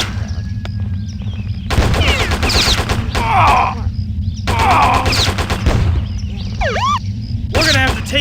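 Rapid bursts of automatic gunfire in the video game Postal, loud and close, coming in several long volleys separated by short pauses, with a voice talking between and under the shots.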